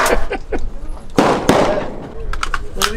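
Sharp gunshots from a full-automatic firearm ring out at a shooting range, a few loud close bangs and short bursts mixed with people talking and reacting.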